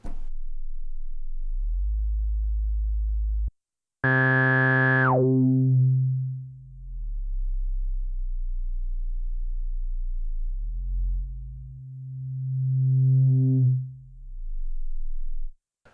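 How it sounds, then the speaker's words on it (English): Resonant synthesizer bass tones from a Take 5 and a Prophet 5, deep sustained low notes with a bright swept filter tone rising and falling over them, separated by a brief gap. "you can get more bass out of the Prophet 5 just because the resonance is so bassy"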